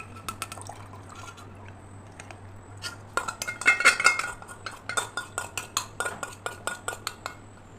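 Custard powder mixture poured through a strainer into milk in a non-stick pot, with a thin liquid trickle and a run of quick metallic taps and clinks from the strainer and spoon against the pan, close and fairly clear.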